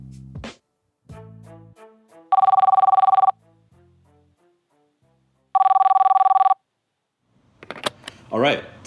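A telephone rings twice before a phone call, two bright electronic trill bursts separated by a pause, with clicks and dial-like tones before them and a voice starting at the end.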